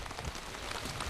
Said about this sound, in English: it's raining far too heavily.